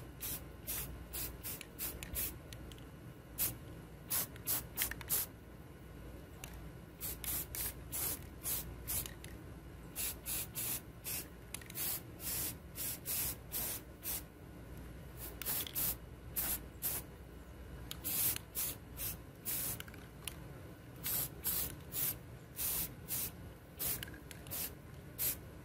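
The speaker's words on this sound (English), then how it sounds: "We get a good coat of paint. Rust-Oleum on it." Rust-Oleum spray paint is sprayed in many short, sharp bursts of hissing onto a battery hanger, the rapid pulses close and loud against quiet room tone.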